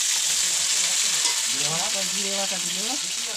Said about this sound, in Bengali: তেজপাতাগুলো একটু লাল লাল করে ভেজে আদা রসুন দিয়ে দিল।